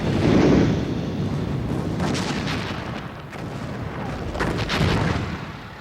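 Heavy First World War artillery bombardment falls on British lines, with many shells carrying poison gas; a loud, continuous rumble of overlapping booms and blasts swells and fades without any voices.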